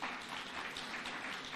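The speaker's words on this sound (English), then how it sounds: "Please stand up and clap for His Excellency." An audience at an African trade union congress in Nairobi applauds, a dense, steady wash of clapping from many hands throughout.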